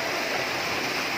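Water gushing steadily out through a hose as a kiddie pool is drained, a dense continuous rush heard up close with no talking.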